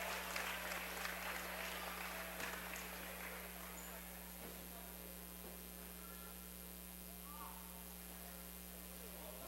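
Home crowd clapping at a Hicksville girls varsity basketball game against Edgerton, scattered applause in a gym that fades after a few seconds, under a steady electrical hum.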